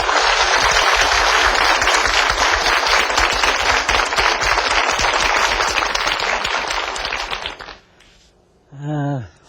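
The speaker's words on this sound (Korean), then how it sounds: "저 박수로 좀 맞이해 주세요" Studio audience applause for a lecturer on a Korean TV art program, a dense sustained crowd clapping that swells then fades out, followed by a brief spoken voice.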